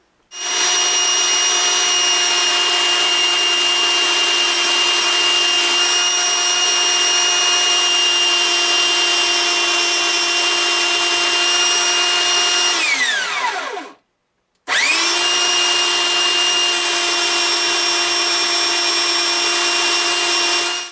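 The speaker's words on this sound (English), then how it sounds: "You just got to grind it down flat with the surface here." A power grinder works down parts on a Martin D15 guitar, giving a steady, loud, high whine that winds down briefly near the end before starting up again, close by.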